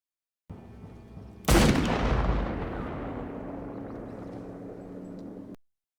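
A single gunshot from the 2021 western film Old Henry rings out after a brief low ambience, a sharp loud crack trailing into a long, slowly decaying rumbling echo before cutting to silence.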